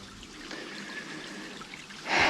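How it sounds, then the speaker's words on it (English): A creek runs among rocks in thick brush on a bushwhacking climb, a soft, steady trickling rush throughout, ending in a brief louder burst of noise. "The creek goes that way"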